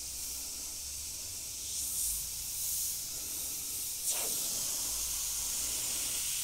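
A Gaahleri Mobius 0.2mm airbrush sprays in a steady, close hiss that holds throughout, with a slight swell partway and a brief sharper burst near the end.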